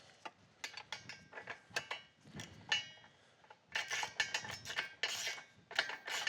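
A ratchet wrench on an extension snugs up bolts on an ATV bumper, giving bursts of close, quick clicking with short pauses between turns and no talk.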